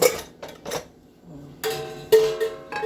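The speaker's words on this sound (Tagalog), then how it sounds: "May mga pinggan dito sa lababo. Ay aking lilinisin." Clattering dishes and clinking utensils in a sink, a few sharp knocks and scrapes in irregular bursts, close by with no talking.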